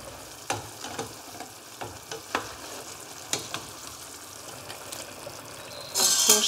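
Quails and chickpeas being stirred in a cooking pot, with a soft steady sizzle and several short scraping stirs spread through the stretch. A brighter burst of sizzling rises near the end. No one speaks.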